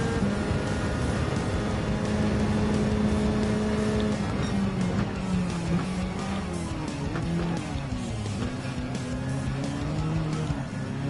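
A Nissan S15 Silvia engine racing in Gran Turismo 7, a sustained close engine drone whose pitch shifts with gear changes, with faint tire squeal and no talk.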